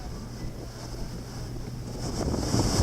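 Strong hurricane wind from Hurricane Irma roars and buffets the microphone in a continuous rush, growing louder toward the end.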